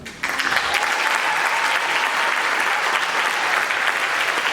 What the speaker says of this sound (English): So when I call their name, you may applaud for them as they stand.